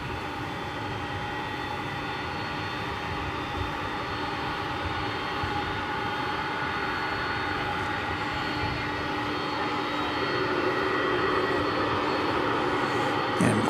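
Aircraft engine noise at Dallas Fort Worth Airport during evening plane spotting, a steady distant rumble that slowly grows louder across the stretch with no talking.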